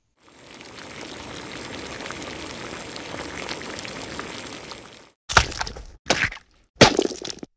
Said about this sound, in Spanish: Esa agua ya se escucha hirviendo.